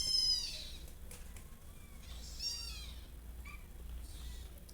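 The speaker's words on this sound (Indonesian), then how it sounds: "anak-anak kucing ini" Kittens meow in repeated thin, high-pitched cries, several short calls spaced a second or so apart over a quiet low background hum, with no talking.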